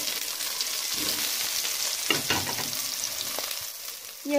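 Chopped onion frying and browning in a pan as cauliflower in tomato sauce is prepared, giving a steady close sizzle with a few stirring scrapes and clicks, no talking.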